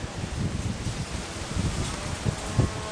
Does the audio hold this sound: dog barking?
no